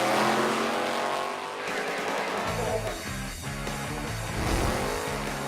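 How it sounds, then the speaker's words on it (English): Drag racing car at the Emirates Motorplex in Dubai doing a burnout: a loud, sustained engine roar blended with tire squeal and skidding, building and shifting pitch over several seconds. "Build a drag racing track, bring in world-class instructors to teach people how to burn rubber in a safe environment"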